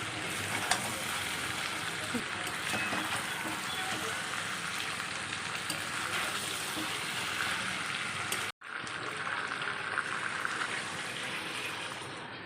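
A pan of fried meat and spices sizzles steadily as heated water is poured in; the hiss runs continuously, drops out for a moment, then resumes at a similar level.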